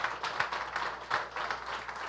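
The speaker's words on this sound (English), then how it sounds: "So now we can give you a little applause." Small church congregation giving light applause for a graduating high school student, a thin patter of scattered claps, moderately close and fairly quiet.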